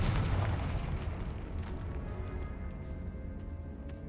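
A Confringo blasting spell explodes in Hogwarts Legacy, with a deep booming blast that rumbles loudly at first and then fades into a low lingering roar.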